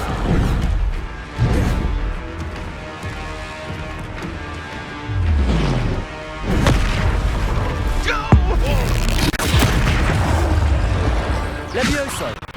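Expelliarmus spell effects in the video game Hogwarts Legacy, with repeated booming bursts, crashes and whooshes amid busy combat sound and music, while a voice shouts spell names over them.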